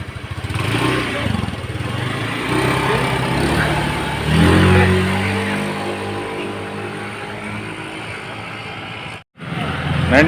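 A Honda Scoopy scooter engine, which loses power at high revs, is revved hard during a test ride: a loud, close buzzing drone that climbs in pitch midway, then settles before briefly cutting out near the end.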